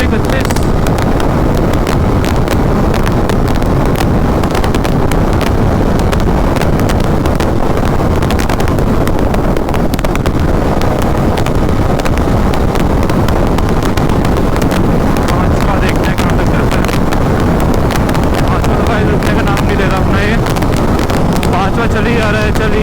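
An Apache RR 310 motorcycle accelerates up through the gears at speed, its engine roar buried under loud continuous wind buffeting on the microphone.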